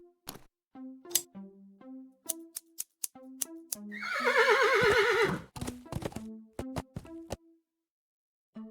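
A horse whinnies in the Willy Morgan and the Curse of Bone Town point-and-click game: a single loud, drawn-out neigh in the middle, surrounded by sparse game sound effects, clicks and short tonal blips, with no talking.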